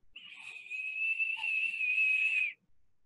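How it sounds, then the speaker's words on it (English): A single sustained high-pitched whistle lasts about two and a half seconds at steady pitch, close and fairly loud, then cuts off abruptly; no talk. "Excuse the whistle."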